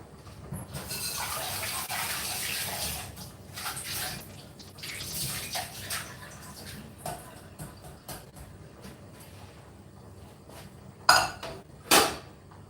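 Water is poured into a cooking pot in a kitchen, a steady gushing splash for several seconds that tapers into trickles and drips, followed by two sharp metallic clanks of the pot.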